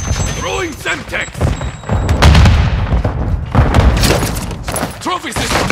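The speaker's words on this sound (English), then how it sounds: "Throwing Semtex!" Semtex grenade blasts and gunfire crackle through a Call of Duty: Modern Warfare II multiplayer hardpoint match, with loud thumps and bursts layered under steady in-game voice callouts.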